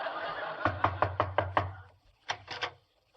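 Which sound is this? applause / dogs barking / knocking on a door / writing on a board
knocking on a door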